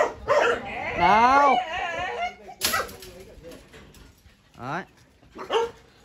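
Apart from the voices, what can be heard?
dog barking at a dog kennel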